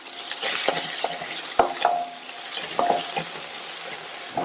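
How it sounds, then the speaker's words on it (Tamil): A medium onion sautés in a pan over a low flame, a soft steady sizzle broken by several clinks and scrapes of a spoon stirring against the metal. "இந்த வெங்காயம் 1 நிமிஷம் போல சிம்லையே வதங்கட்டும்."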